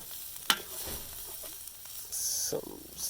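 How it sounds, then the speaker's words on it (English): Rice browns quietly in a paella pan, a soft low sizzle with scraping stirs and a few clinks, a louder hiss surging near the end, while people talk nearby. "Sort of a little browning of the rice."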